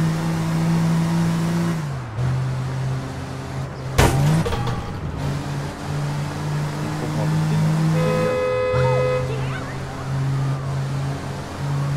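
A car driving in APB Reloaded, its engine holding a steady droning hum that shifts pitch with gear changes. A sharp knock sounds midway, and the engine noise continues throughout.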